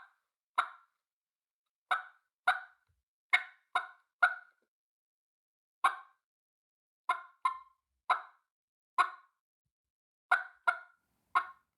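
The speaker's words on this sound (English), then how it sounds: "And there's your basic cluck." A Woodhaven Custom Calls turkey call, worked with the tongue, gives a series of single sharp clucks, about fifteen crisp pops at irregular intervals, close and alone against silence.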